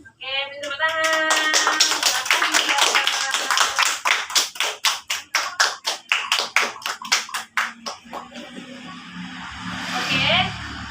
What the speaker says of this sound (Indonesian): oke, minta tepuk tangan